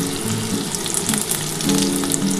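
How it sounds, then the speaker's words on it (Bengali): Chopped onions hit hot oil in a pan for an egg poach curry, a steady close sizzle and crackle that runs the whole time and swells a little toward the end, with no talking. "এবার এর মধ্যে আমি পেঁয়াজ দিয়ে দিচ্ছি। এই যে পেঁয়াজটা কুচিয়ে রেখেছিলাম সেই পেঁয়াজটা দিয়ে দিলাম।"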